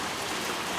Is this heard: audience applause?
no